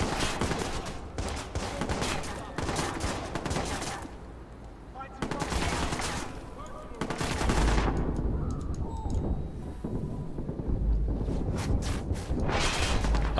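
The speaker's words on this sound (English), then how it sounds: "I thought I had a silenced gun." Gunfire in the Watch Dogs video game, including a silenced pistol, comes as rapid bursts of sharp shots in several loud clusters separated by brief lulls, with someone talking in between.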